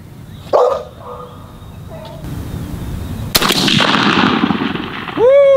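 A 3.5-inch 6-shot Longbeard XR shotgun shell fires with one loud, sharp blast outdoors during pattern testing, followed by a long rumbling decay and an echo; a dog barks briefly before and after.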